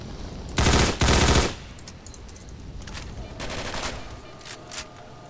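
Gunfire from a jamming weapon in the Call of Chernobyl video game comes as two loud bursts of rapid automatic shots near the start. Quieter, scattered shots follow, with a short burst toward the end.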